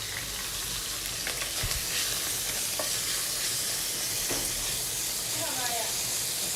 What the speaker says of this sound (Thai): ผัดถั่วงอก